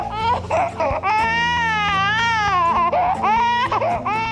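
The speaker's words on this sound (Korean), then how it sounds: "하루에도 수십 번 울 수밖에 없는 아기." A baby wails loudly and close by in a home. The cries are long, strained and rising, broken by a few short catches of breath, and they go on without pause. A dog shares the house.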